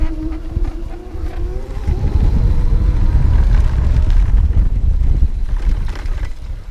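A Sondors Thin electric bike with a 350 watt motor rides over dirt, heard as low rolling rumble and gusty wind buffeting against the microphone, loud and continuous, with a faint tonal whine early on.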